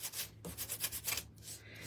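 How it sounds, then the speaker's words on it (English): Hand sanding of painted farmhouse-style furniture, steady rhythmic rubbing strokes close up, about six back-and-forth passes with brief pauses, no voices. "Now you could sand as much or as little as you want."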